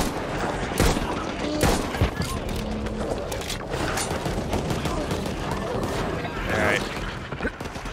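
Gunfire in the zombie shooter Back 4 Blood, with dense overlapping bursts and single shots over a steady background of game noise and a few louder cracks.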